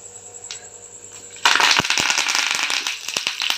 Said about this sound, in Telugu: కరివేపాకు వేసేద్దాం